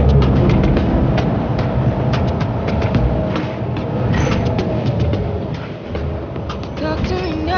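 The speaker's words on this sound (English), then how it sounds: "Join me as we ride the Blue Line to downtown to see my university campus." Blue Line metro train ride toward downtown in Canada, a steady loud rumble of the moving car with rhythmic clicking of wheels over rail joints throughout, close and continuous.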